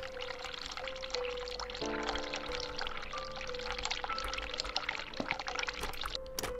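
Water poured steadily into a container, a continuous splashing stream that runs throughout at moderate closeness, with a brief clunk near the end and no talking.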